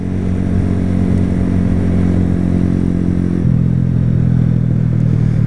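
A Honda CG 125 Fan motorcycle engine drones steadily at close range while riding, its low rumble shifting pitch slightly partway through.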